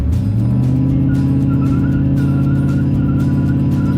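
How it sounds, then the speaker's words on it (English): A 1978 Ford Scamper van doing a weak burnout with foot on brake and gas, a loud, steady engine drone with rough pulsing revs and faint tire squeal, close by and without speech. "Here's the burnout. That's not a very good burnout."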